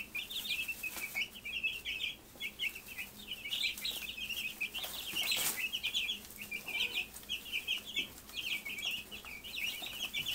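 Twelve-day-old meat chicks in a brooder keep up a constant chorus of high chirping and peeping, with brief rustles and one sharp knock, and no talking.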